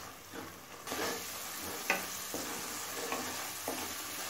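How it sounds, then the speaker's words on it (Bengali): Masala spice paste mixed with water is cooked down on a high flame, a soft close sizzle with repeated spatula scrapes and stirring strokes, no voices. "এবার কিছুক্ষণ সময় নিয়ে মশলাটা ভালোভাবে কষিয়ে নেব।"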